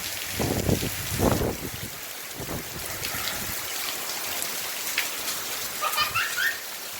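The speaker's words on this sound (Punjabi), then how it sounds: "ਬਹੁਤ ਹੀ ਜ਼ਿਆਦਾ ਜਿਹੜਾ ਮੀਂਹ ਦਾ ਹਿਸਾਬ ਆ ਵੱਧ ਗਿਆ" Heavy rain pours steadily outdoors under thick clouds in Punjab, a continuous broadband hiss of falling water with a few louder spatters, heard close and alone with no voices.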